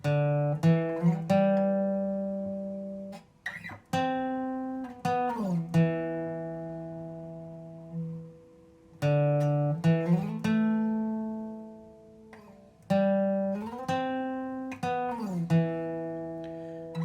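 Acoustic guitar riff, plucked notes and short phrases, with sliding pitches and pauses between runs, played close and clear without voices.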